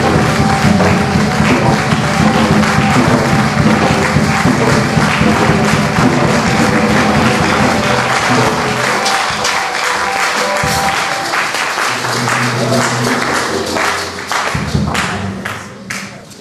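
A church congregation claps and cheers loudly for a sustained stretch, dense applause that thins and softens toward the end.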